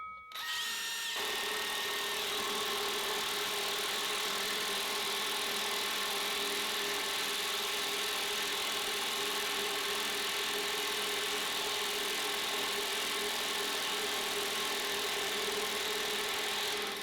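A power drill fitted with a DeWalt/Makita battery adapter drives big screws into wood, its motor starting up loud and then whirring steadily and unbroken at close range for the whole stretch, with no one talking.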